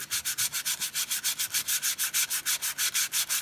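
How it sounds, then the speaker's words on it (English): A brake rotor is sanded by hand with 120 grit sandpaper to remove glaze, producing quick rhythmic back-and-forth rasping strokes, about six per second, close and even in loudness throughout. "And you just got to sand in there and take the glaze off them."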